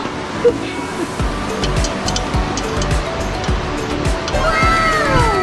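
A small river in Taroko National Park in Hualien, Taiwan, flows with a continuous splashing rush of water close by, and people talk over it now and then.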